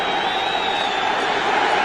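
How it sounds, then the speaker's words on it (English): Stadium crowd at a 1992 Washington Redskins at Philadelphia Eagles football game, a dense continuous roar of many voices, loud and unbroken for the short stretch. "The crowd and the atmosphere, certainly everything you would expect."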